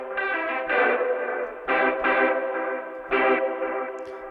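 Electric guitar chords from an East West Ghost Writer preset with delay, three bright distorted stabs each trailing into echoing repeats, loud and alone with no talking.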